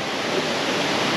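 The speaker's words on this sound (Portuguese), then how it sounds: "E essa cachoeira aqui." A small waterfall at the Santa Maria complex near Delfinópolis, Minas Gerais, pouring into a swimming pool gives a steady, dense broadband rush, close and continuous, with no voices.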